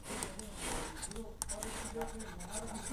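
Pen scratches on paper as trigonometry math is written out during a ninth-to-tenth grade lesson, with soft, quick strokes heard under a teacher's speaking voice.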